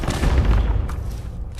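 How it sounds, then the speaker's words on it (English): Big explosions in the video game Fallout 76: a dense, rumbling burst of booms with crackling debris, loud and close, fading toward the end. "those explosions are so big"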